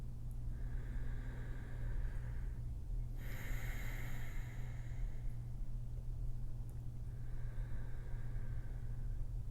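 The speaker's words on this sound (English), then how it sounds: "Exhale to the other side." A single soft, breathy exhale during a gentle yoga neck stretch, a hissing rush of air lasting about a second and a half, heard close against a steady low background hum.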